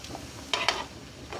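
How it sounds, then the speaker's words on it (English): Zucchini sautéing in a pan, a low steady sizzle with two brief louder scrapes or stirs near the middle, close and alone without talk. "I'm just sauteing it."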